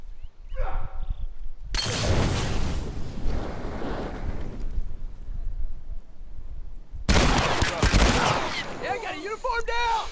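Gunfire in The Last of Us multiplayer, two long bursts of loud, dense shooting separated by a brief lull, with a voice talking near the end.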